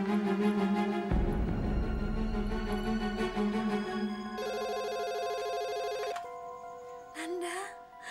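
A telephone rings with a loud, repeating electronic ringtone that changes pattern partway through, mixed with other tones and sounds in a drama scene.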